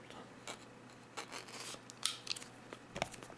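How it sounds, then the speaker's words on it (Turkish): A utility knife slices open the packaging of an iPhone 5 box in a few short, quiet scraping strokes, heard close and alone with no talking. "Şimdi maket bıçağımızı alıp heyecanla ilk deşiği açıyoruz."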